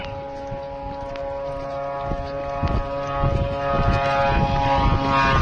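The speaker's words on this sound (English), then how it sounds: "this drone is going to crash down directly onto it." A steady propeller drone drone buzzes continuously as it closes in on a truck-mounted air defense gun, growing slightly louder toward the end with faint clatter underneath.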